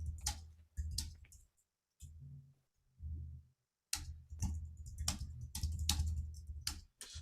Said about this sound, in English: Sorry for typing in a different window.